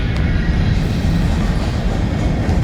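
A BNSF freight train rolls past in the rain, a loud steady rumble of railcars with rail noise filling the short stretch, no voices.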